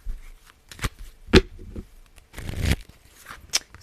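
Tarot cards being covered and shuffled by hand, heard as a few short, sharp riffling and rustling bursts separated by quiet gaps, close and moderately loud with no speech.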